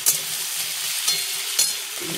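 Potatoes frying in a pan, a loud, close, continuous sizzle with a few sharp spatula scrapes spaced about half a second to a second apart.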